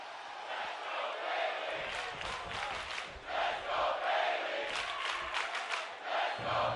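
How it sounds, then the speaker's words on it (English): A video-game wrestling arena crowd on a WWE Raw show cheers and roars for Bayley, a steady dense wash of voices with swelling bursts of shouting throughout. "the crowd supporting Bayley"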